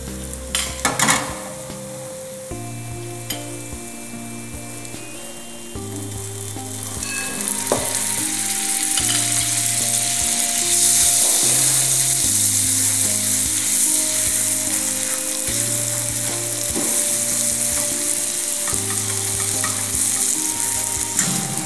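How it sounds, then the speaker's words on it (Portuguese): Butter, sugar and orange zest caramelizing in a pan for crepes, a steady sizzle that swells louder after a few seconds and carries on throughout, with faint scraping and music running underneath. "Depois de caramelizarmos a manteiga, o açúcar e os zestes, adicionamos sumo de laranja."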